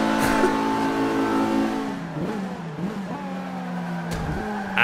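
A race car engine in the Forza 5 racing video game revs hard and continuously, its pitch rising and dipping through gear changes at high rpm, loud and close throughout.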